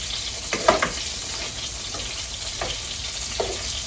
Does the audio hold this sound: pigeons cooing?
no